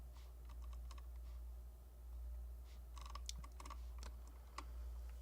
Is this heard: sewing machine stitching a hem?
no